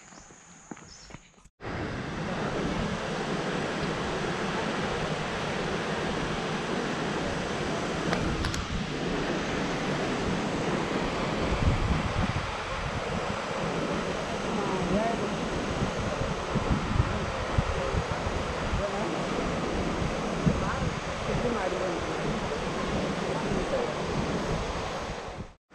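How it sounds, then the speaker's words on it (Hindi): A pair of waterfalls roars as a steady, broadband rush of falling water, loud and unbroken throughout, with occasional wind buffeting and faint rustling over the constant wash. "जैसे सोचा था उससे तो बहुत ही अच्छा है ये दोनों वाटरफॉल्स।"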